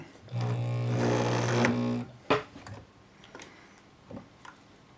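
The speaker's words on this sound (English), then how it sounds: "We're gonna go down and top stitch this down again." A Bernina Record 830 sewing machine top stitching a zippered pouch runs in one steady, close burst of rapid humming stitches for under two seconds, then stops, leaving a few light clicks and handling taps.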